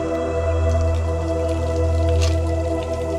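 Water trickles and drips steadily from hanging tree roots into a stream at a Konkan temple garden, a continuous soft patter with no voices.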